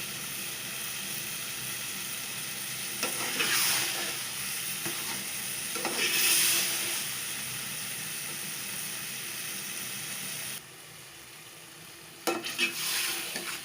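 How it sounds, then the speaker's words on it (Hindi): Chopped zucchini curry vegetables frying slowly in oil in a pan, giving a steady close sizzle with a few scraping stirs and clinks of the spoon along the way. "सब्ज़ी अब आस्ता आस्ता भून रहे हैं।"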